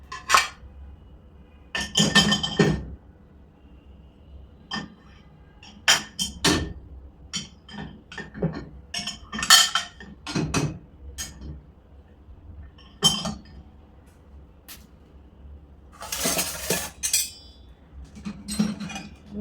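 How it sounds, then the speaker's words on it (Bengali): Spoons, plates and other dishes clatter and clink as they are set into the rack of a two-rack Midea dishwasher, with sharp, irregular metallic and ceramic knocks in scattered bursts, close and fairly loud, with no talking. "স্পুনগুলো এক জায়গায় দিচ্ছি।"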